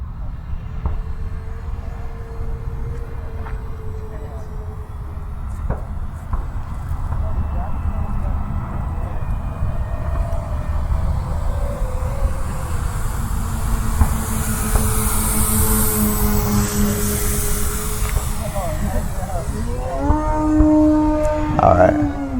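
Flex Innovations Twin Otter 80E electric RC model airplane flying overhead, a steady motor and propeller drone running continuously under wind noise, swelling louder midway as it passes nearer, with people talking throughout.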